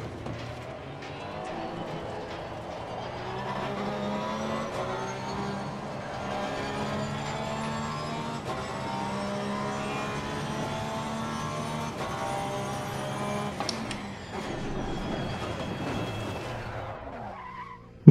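A race car laps a track during warm-up in Assetto Corsa Competizione, its engine a continuous high, whining drone that climbs steadily in pitch through the gears over tire scrub and skidding noise, then drops away sharply near the end.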